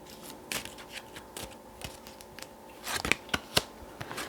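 Tarot cards shuffled and drawn close up, a string of crisp flicks and snaps at an uneven pace, growing busier and sharper toward the end, with no voices.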